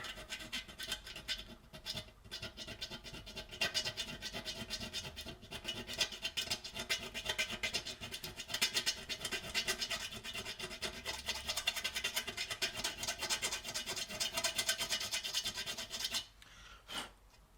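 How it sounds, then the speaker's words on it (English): A small hand file rasps steadily at a burr on a Peugeot 207 BE4 gearbox part, giving close, continuous scratching strokes for about sixteen seconds before stopping near the end. "Just a little file. There's a little burr."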